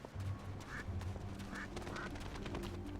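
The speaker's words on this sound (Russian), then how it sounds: "Здесь тоже утки." Ducks in the video game Risen 3 quack in a few short calls, spaced out and moderately near, over a soft ambient game background with no talking.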